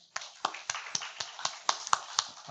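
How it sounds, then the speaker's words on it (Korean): Church congregation at a Sunday worship service clapping in a slow, even rhythm, about ten distinct claps spaced roughly a quarter second apart, close and clear with no talking. "우리 한번 박수 한번 쳐드릴까요?"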